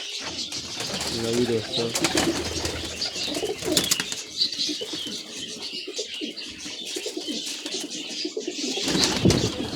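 Pigeons of a prized breed coo and flutter close by at a loft, with wingbeats and soft calls mixed under steady chatter and someone speaking in Hindi-Urdu.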